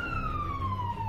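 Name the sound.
sirens in Moscow streets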